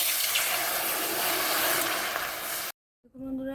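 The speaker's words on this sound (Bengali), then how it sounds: "আমার জল দিয়ে দিচ্ছি আলুটা সিদ্ধ করার জন্য জল দিয়ে দিচ্ছি" Water pouring steadily into a pot of frying spices to boil potatoes for puchka, a continuous broadband rush for nearly three seconds that cuts off abruptly, followed by faint kitchen noise.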